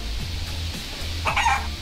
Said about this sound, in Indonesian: Dua ayamnya berkokok.